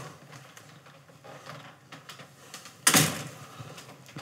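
A door with a connected sensor on its frame is opened in a home: a single sharp, loud clack near the end of a quiet stretch with faint room noise, no talking.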